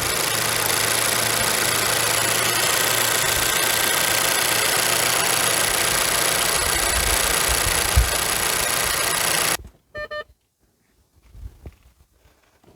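A 2022 Nissan Townstar Combi's 1.3 DiG-T 130 hp petrol engine idles steadily and loudly up close for about nine seconds, then cuts off abruptly, leaving near silence with a few faint clicks.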